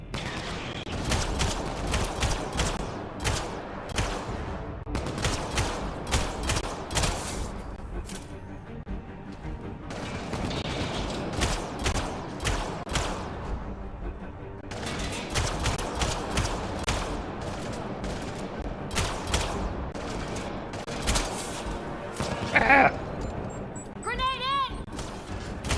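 Gunfire in Mass Effect: Andromeda comes as rapid, dense bursts of shots, loud and repeated, with short lulls between volleys and voices over the fighting.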